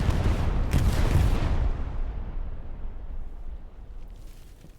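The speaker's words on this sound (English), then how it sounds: "Bombing run. Kills nobody." A bombing run in the World War II shooter Hell Let Loose rolls in as a loud, dense wash of explosions, which rumble and crackle for over a second before trailing off into a fading, distant roar.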